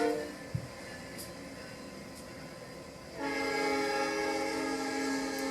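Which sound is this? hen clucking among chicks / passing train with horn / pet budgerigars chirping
passing train with horn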